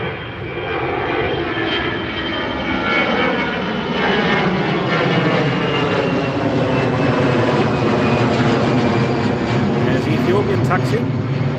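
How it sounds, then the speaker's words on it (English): An Ethiopian Airlines Dreamliner jet taxis at London Gatwick, its engines a loud, continuous rumbling roar with a whining tone that stays steady for the whole stretch. "There's the Ethiopian Dreamliner just taxiing along to 26 left."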